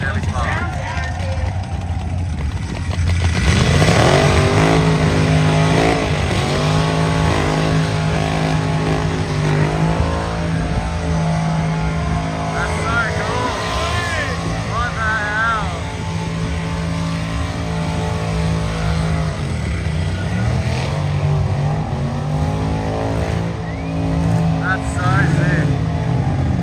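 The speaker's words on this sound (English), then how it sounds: "Big block in a Chevy Spark." Big block V8 engine fitted in a Chevy Spark, revving and rumbling loudly at an event, with pitch sweeps as the throttle rises and falls over a steady roar; people talk and crowd noise sits under the engine.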